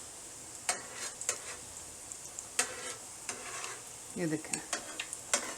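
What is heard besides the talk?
beef shami kebabs frying in a pan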